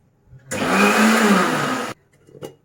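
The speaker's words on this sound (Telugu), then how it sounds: "ఇది మిక్సీ పట్టుకుందాం." A mixer grinder whirs loudly at full speed for about a second and a half, grinding garlic, ginger and onion pieces, then cuts off abruptly, leaving a brief faint clatter.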